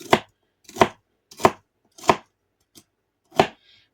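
A knife chops washed celery into chunky pieces for a homemade hamburger soup, with five firm, evenly spaced thuds on a cutting board, one lighter tap and a faint final touch, close and clear with no voices.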